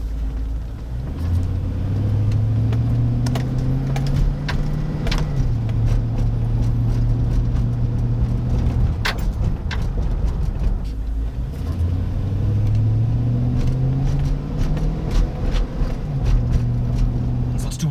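A 1999–2006 GM fullsize truck drives through repeated starts and stops, its engine rumble rising and falling in two clear acceleration sweeps, steady and close throughout with no talking.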